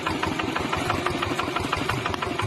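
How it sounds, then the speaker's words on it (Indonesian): A farm tractor of the kind used for ploughing rice paddies runs steadily at close range, its engine giving a continuous knocking chug with a dense, even rumble throughout and no voices. "Traktor yang biasanya digunakan untuk membajak sawah justru digunakan untuk membangunkan warga sekitar saat bulan Ramadan tiba"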